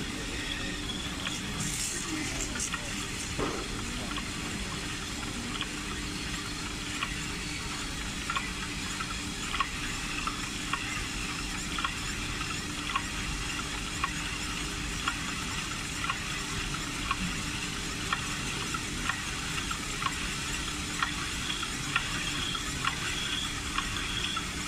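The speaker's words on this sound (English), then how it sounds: "Then spooling rewinding." Narrow foam tape spooling and rewinding on a machine, a steady continuous mechanical whir with faint hiss and small regular ticks running throughout, no talk.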